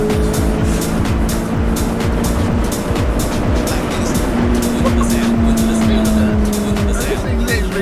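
A Peugeot 306 GTI with a bespoke custom exhaust drones loudly from close by, the engine note rising and falling through gear changes under a constant rumble, with voices faintly mixed in.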